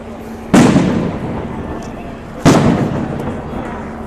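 Two loud explosions at Place de la Nation during unrest, each a sharp blast about two seconds apart followed by a rumbling decay, close by and standing alone without speech.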